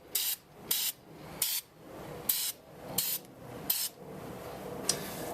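Repeated short hissing bursts of aerosol spray paint onto a 2004 Volvo XC90 key fob from about 6 to 8 inches away, about seven evenly spaced sprays, each sharp and close, over a low background hum.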